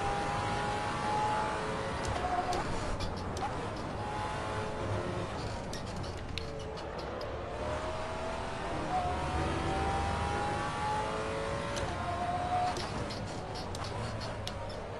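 Race cars in a racing video game during an overtaking move, engines whining and revving with rising pitch sweeps as one car passes another, steady and continuous with some ticking.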